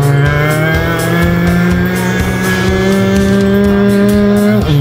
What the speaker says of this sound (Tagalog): bilis talaga ng motor